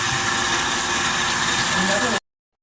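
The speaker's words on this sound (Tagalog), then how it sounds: "Hindi maingay ang motor." A constant low motor hum runs smoothly, quietly and evenly, then cuts off abruptly near the end.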